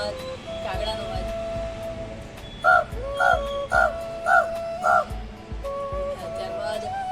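Five evenly spaced, harsh caws voiced by a man imitating a crow, loud and close, delivered in a steady rhythm over a continuous crowd murmur.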